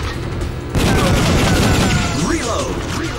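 Gunfire and booming explosions from a light gun shooter played with the Namco GunCon, a loud sustained barrage of shots and blasts filling the clip over in-game sound.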